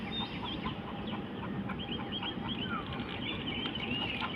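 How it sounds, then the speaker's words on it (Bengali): Chickens cluck in a jungle with a faint, scattered clucking heard over a constant outdoor background hiss. "মুরগি ডাকছে গাইস জঙ্গলে।"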